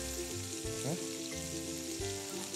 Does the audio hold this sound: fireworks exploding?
no